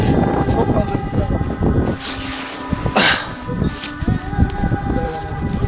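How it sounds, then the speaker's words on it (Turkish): Gusty wind roars and buffets the microphone with a heavy low rumble, while voices murmur faintly underneath. "Çok fazla rüzgar."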